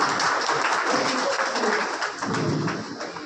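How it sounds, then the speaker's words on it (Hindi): Steady applause from an audience at a BSNL retirement farewell ceremony, dense clapping that holds for the whole stretch at even loudness with no talk over it. "तालियों से स्वागत करें।"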